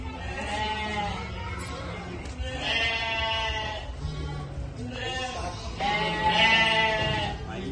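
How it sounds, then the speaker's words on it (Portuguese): Several sheep and goats bleat in overlapping, wavering cries at a livestock exhibition, some close and loud, others farther off, with a voice speaking in between. "ovinos e cabrinos."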